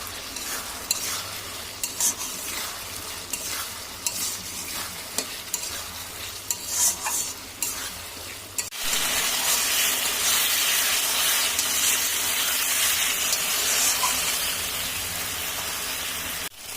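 Rohu fish with potato and pointed gourd being stir-fried in oil, first with repeated scraping stirs over a sizzle, then a loud, continuous hiss of frying that fills the second half, close up with no talk.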